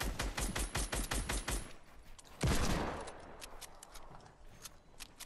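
Fortnite gunfire: a quick run of sharp rapid shots, then a louder blast that dies away into scattered fainter shots.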